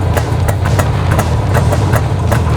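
A Soviet IZh Jupiter 2 motorcycle engine with original exhaust pipes idles steadily, a loud low throb with a fast, even pulse of exhaust beats and no voices.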